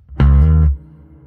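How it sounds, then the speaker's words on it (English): A single sustained distorted guitar note rings for about half a second through a subtle reverb effect, then cuts off, leaving a faint lingering tail. "This is the subtle reverb, right?"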